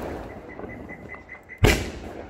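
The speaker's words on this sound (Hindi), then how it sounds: "आपको मेरा ये पटाखा कैसा लगा यार" A Diwali firecracker goes off in one sudden, sharp, loud bang after a stretch of low background noise, then a brief rumbling decay, close by and with no one speaking.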